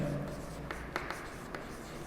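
A pen scratches out a handwritten integral equation in soft, short strokes, faint and close, with a few sharper taps at intervals.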